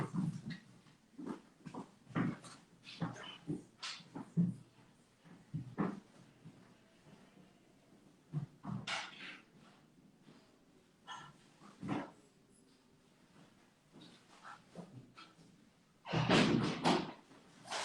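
A pet dog barks indoors at home in repeated sharp bursts spread across the stretch, fairly close, with a louder flurry near the end.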